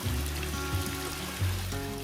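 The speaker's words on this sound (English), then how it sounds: "Next, you come to the path down to the waterfall." Small waterfall along a hiking path down from Mount Nebo, running at reduced flow after a dry spell, gives a steady, close rushing wash with low tonal hum mixed in.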